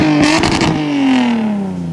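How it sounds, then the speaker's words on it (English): An old Toyota Sienna minivan with a street race car tune-up revs hard, a loud close engine roar with a brief rattling burst and then a falling pitch as it winds down. "These guys gave an old minivan the tune-up of a street race car."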